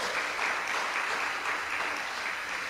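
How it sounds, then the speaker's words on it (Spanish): Sustained applause from a church congregation, steady clapping throughout with no voices on top. "Denle un aplauso fuerte al Señor"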